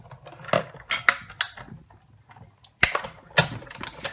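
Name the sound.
Big Shot die-cutting machine pressing cardstock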